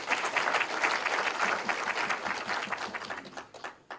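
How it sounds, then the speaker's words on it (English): Audience applauding at a regional state-of-the-region address in Hardap, a dense steady wash of many hands clapping that thins and tapers toward the end, with no talk over it. "Give yourselves a hand of applause."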